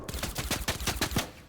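Rapid burst of about a dozen sharp, loud shotgun blasts in Fortnite, fired in quick succession over a second and a half with no talking.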